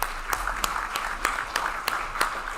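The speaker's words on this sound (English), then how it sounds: "Big round of applause" An audience at a disability mentoring reception applauds, a soft wash of many hands under a series of evenly spaced, sharper claps roughly three per second.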